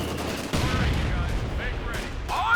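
Machine gun fire in the Company of Heroes 2 game, a brief crackling burst of distant automatic gunfire over a busy battlefield rumble.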